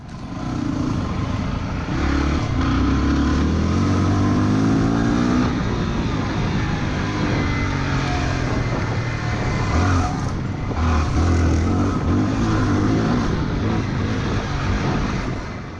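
Yamaha WR250R dirt bikes ride off-road trails on tribal land, the engines droning loud and close with steady revving and shifting pitch throughout, no voices over the continuous roar.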